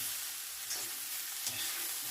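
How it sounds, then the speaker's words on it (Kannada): Onion frying in a pan until golden, a soft continuous hiss of oil with faint stirring scrapes, quiet and steady with no voices. "ಗೋಲ್ಡನ್ ಕಲರ್ ಬರುವ ತನಕ ನಾವು ಇದನ್ನು ಫ್ರೈ ಮಾಡಿ ತಗೊಳ್ಬೇಕು."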